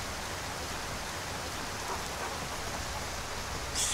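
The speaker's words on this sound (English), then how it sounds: "Ooh, it's raining." Steady, dense rainfall in the video game Skyrim, a continuous even hiss that fills the whole stretch with no talking, rising slightly louder right at the end.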